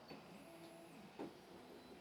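A Railcore II 3D printer homes its axes, stepper motors giving a faint whirring hum with a rising and falling whine and a brief soft knock near the end, without talk.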